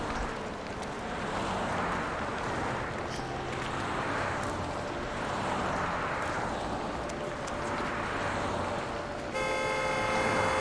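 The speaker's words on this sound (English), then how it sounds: "that was honking" Street-level traffic in the city-building game Cities XXL: a steady wash of car noise with a car horn honking clearly toward the end.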